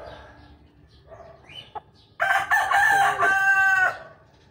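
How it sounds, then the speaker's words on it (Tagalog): A small Serama bantam rooster crows once, loud and close, in a long quavering call that follows a few quieter clucks and bird noises. "So lahi yan ng Serama chicken."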